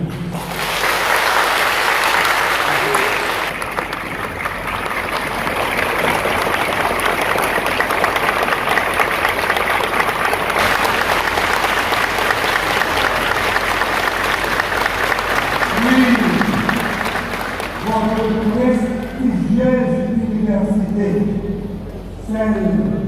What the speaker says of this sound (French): recevez, au-delà des applaudissements, un standing ovation de votre uniforme prestigieux